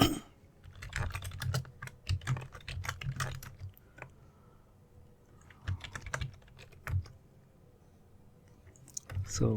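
A computer keyboard is used to type a login password, with quick bursts of clicking keystrokes in several clusters separated by short pauses, fairly close and clear.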